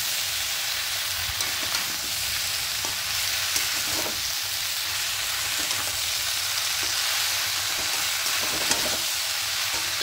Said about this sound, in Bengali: এবার পালং শাকগুলো দিয়ে দেবো, অল্প অল্প করে দেবো। এবার মিশিয়ে নেবো।